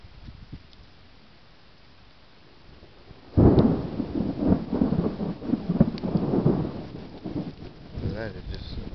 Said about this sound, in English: That is just crazy thunder right there.